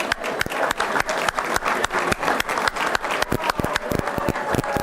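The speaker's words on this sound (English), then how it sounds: "let's give them a round of applause" A crowd at a charity gala dinner and auction claps for event co-chairs, a lively round of applause with distinct close hand claps and a faint murmur behind.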